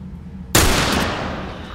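A single gunshot from a firearm in The Last of Us, a loud, sudden blast after a quiet moment, followed by a long decaying echoing tail.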